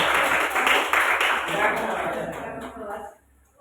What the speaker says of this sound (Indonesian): Tepuk tangan dulu buat laki-laki.